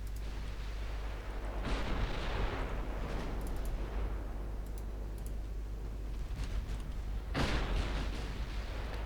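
Heavy naval gunfire in the warship battle game Ultimate Admiral: Dreadnoughts, as shells strike heavy cruisers: two loud broadband booms with rumbling tails over a constant low engine drone, several seconds apart.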